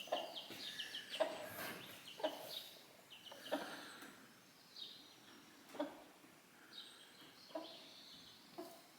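Clucking from a small group of chickens, a cockerel and hens on a Scottish steading, sounding as a series of short, fairly quiet calls about once a second over a soft outdoor background.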